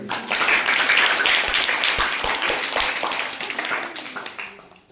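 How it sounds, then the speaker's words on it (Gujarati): A group of children claps together after answering a question in a school maths quiz, a dense burst of applause that swells early and then gradually thins and fades out. "સરસ તાળી થઈ ગઈ"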